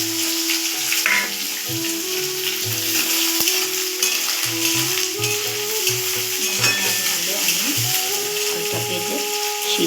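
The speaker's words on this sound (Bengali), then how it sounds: "পেঁয়াজটা আমি ভেজে পেঁয়াজটা" Onions frying in a pan, a loud continuous sizzle with scraping stirring, close and steady with no talk.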